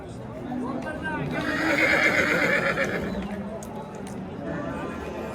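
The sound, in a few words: horses neighing at a livestock market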